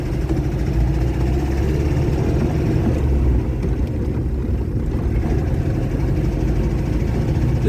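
Engine of a 1972 Porsche 914 pulling away in first gear, a steady loud low rumble heard from inside the car with no talking.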